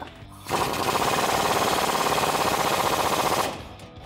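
An impact wrench fires a rapid, loud, continuous burst lasting about three seconds while tightening a nut with a 21mm socket on a Jeep Gladiator, then stops abruptly.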